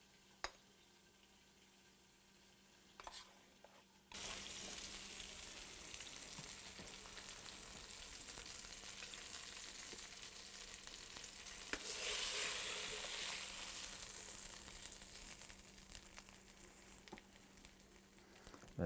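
Walleye fillets fry steadily in a pan at a lakeside cookout, a loud continuous sizzle that starts abruptly after a few seconds of quiet and swells briefly partway through, with no talking.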